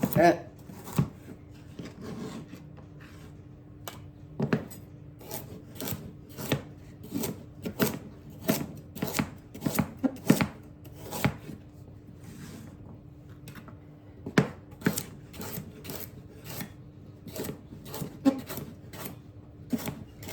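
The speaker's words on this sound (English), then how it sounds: "I'm going to cut these on the bias because I think it makes it fancy and pretty" Knife strokes slice vegetables on the bias against a cutting board in irregular bursts of crisp, sharp thuds and clicks, close by, with short pauses between runs.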